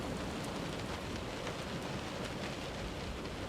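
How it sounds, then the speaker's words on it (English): Rain falls steadily outdoors in the horror game Close to the Sun, a dense, even hiss that stays constant and fairly loud throughout, with no talking over it. "I don't see rain, but it's definitely raining"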